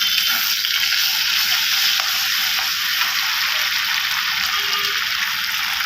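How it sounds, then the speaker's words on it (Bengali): Spice paste of chili, ginger and garlic frying in oil with browned onions, a constant loud crackling sizzle that runs unbroken throughout, with no talk. "এখন মশলাটাকে ভালো করে কষিয়ে নেব"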